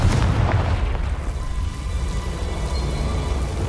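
A Confringo spell explodes in the Hogwarts Legacy video game, a loud booming blast at the start that rolls off into a dense, rumbling low roar.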